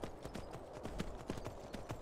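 Horse hooves clip-clop in the Skyrim video game, a steady run of sharp, fairly close hoofbeats at a brisk walking rhythm over a faint ambient bed, with no talking.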